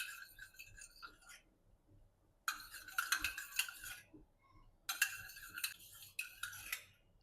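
A spoon stirs custard powder into milk in a metal vessel, making two bursts of fast, bright clinking and scraping separated by quiet pauses, with faint background noise underneath.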